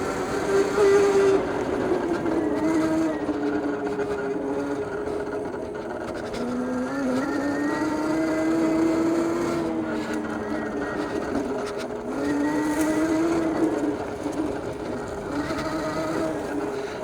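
The electric motor of a KOVO NOVA MINI dirtbike whines steadily while riding, its pitch gliding up and down as the throttle changes, with a loud, continuous hum and faint wind noise.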